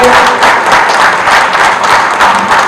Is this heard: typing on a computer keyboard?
no